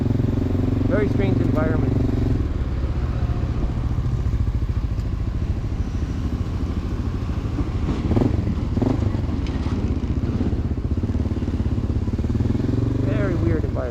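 Small 150cc motorbikes idle and rev in a city street on the Upper West Side, their buzzing engines steady and close throughout, with someone talking over them.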